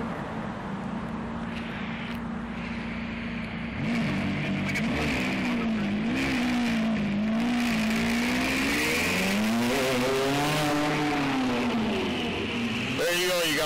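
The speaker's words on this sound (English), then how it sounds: "Two different McLarens." Two McLaren supercars pass close by with a loud, sustained engine roar that rises and falls in pitch as they accelerate past, ending in a sharp burst of noise, with a person talking faintly underneath.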